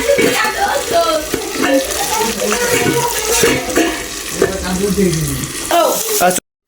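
Water poured into a pan of frying vegetables for noodles in a home kitchen gives a steady, loud hiss and sizzle with bubbling throughout, while a person talks over it.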